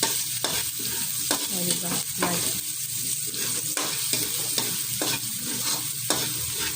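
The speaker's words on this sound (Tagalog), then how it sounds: "Gigisa ang bawang, sibuyas." Garlic and onion sautéing in a pan, a steady close sizzle broken by repeated scraping stirs, with a few brief spoken words.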